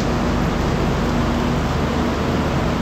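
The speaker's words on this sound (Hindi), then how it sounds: "अच्छा खासा बारिश हो रहा है" Heavy rain outside a moving Rajdhani Express train in third AC class, heard as a steady, dense broadband wash with a low rumbling hum from the carriage, constant and unbroken throughout, with no voices.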